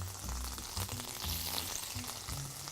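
Veal sweetbreads sizzle steadily in butter in a pan, a close, continuous fry with a soft crackle that swells and eases in gentle waves, no voices present.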